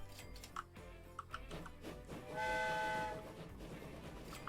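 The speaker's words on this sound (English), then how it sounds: "Our goods transport train, should I say." A goods transport train in Train Fever, carrying wood, rumbles along quietly with ticking wheel clicks and a brief horn blast in the middle.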